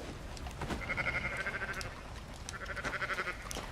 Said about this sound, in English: We are pilfering sheep.